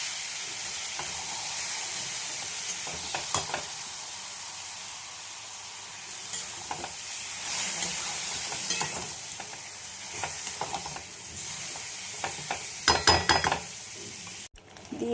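Fish fries in mustard oil and is stirred in the pan. A steady, close sizzle runs throughout, with scraping and clinks from the utensil recurring at irregular intervals.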